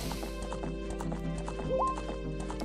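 Rhythmic clip-clop of hooves from Epona, the horse in the video game Zelda Ocarina of Time, set over looping game music, with a brief whinny near the end.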